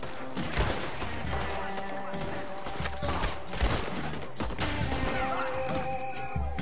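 Gunfire from the Red Dead Redemption 2 video game crackles in repeated shots and volleys, mixed with game ambience and some talk.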